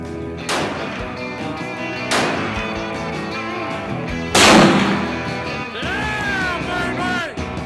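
Three loud, sharp rifle shots, close and widely spaced, ring out from a powerful rifle with expensive shells and heavy recoil, followed by a whistling, whirring tail.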